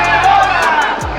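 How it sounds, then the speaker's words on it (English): Boxing crowd roaring in support of Casimero during his bout with Ramirez, a dense sustained wash of cheers with whoops rising over the noise, loud throughout with commentary over it. "Crowd getting behind Casimero."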